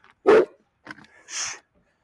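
A dog gives a loud, close bark, then a few quieter yips and a short whining bark, with brief silences in between during a training session.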